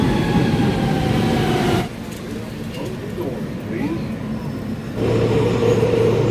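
A New York City subway train rumbles steadily and loudly, its roar shifting in level partway through while a person talks over it.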